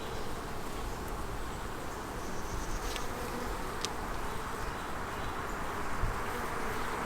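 A constant, even drone of many honeybees swarming close by while a hive is opened and frames are inspected, a dense buzz that holds at one level the whole time with no talking.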